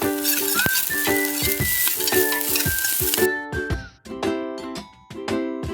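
Onion and ginger sizzle steadily in a hot pan for a Filipino chicken dish, with a spoon scraping and clinking against the pan at intervals, loud and close.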